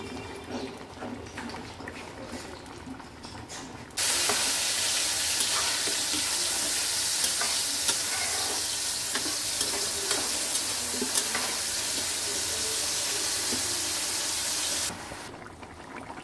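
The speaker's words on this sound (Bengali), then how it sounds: "তরকারিটা একদম ভালো করে ফুটে এসছে" Matar paneer curry with soft paneer bubbles in a pan with a broad, steady sizzling hiss that sets in suddenly and runs for about eleven seconds, with soft stirring clinks, then drops back to a quieter kitchen background.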